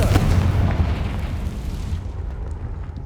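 A Confringo spell explosion in the Hogwarts Legacy video game, a loud booming blast with a low rumble that decays over a few seconds.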